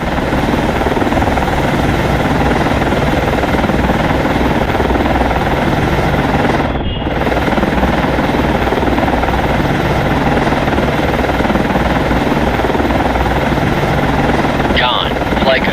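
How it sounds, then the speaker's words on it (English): A helicopter lands on a ship in the Cold Waters naval video game, its rotor drone steady, loud and continuous throughout, with a voice making brief radio-style calls over it. "Con, Flyco, aircraft landing."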